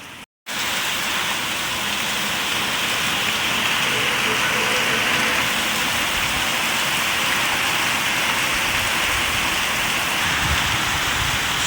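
Heavy morning rain pours down in a steady, dense hiss that keeps up throughout, loud and close, after a brief gap at the start.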